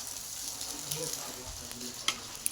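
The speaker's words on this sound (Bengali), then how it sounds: "ডিমটা বেশি ভাজার দরকার নেই" An egg fries lightly in a pan with a steady soft sizzle and crackle, broken by a couple of faint clicks from a utensil, close by and without speech.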